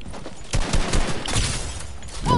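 Rapid bursts of gunfire from a new weapon in Fortnite, several quick cracking volleys over about two seconds amid game noise.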